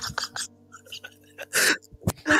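A cartoon character lets out a theatrical sneeze attack, with short gasping intakes building to two loud bursts of sneezing, close and dry.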